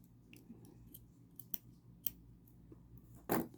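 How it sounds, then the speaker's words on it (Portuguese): Scissors snip leftover yarn from a crocheted cropped top, several soft clicks, then one crisp, louder cut near the end, close and quiet with no voices. "E vou cortar o fio sobrando"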